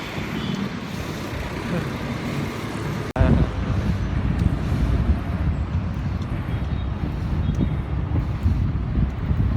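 Steady headwind rushes across the microphone of a cyclist climbing a gentle uphill road near SM Fairview, Quezon City, a low rumbling roar that jumps louder partway through, mixed with faint road noise and some talking.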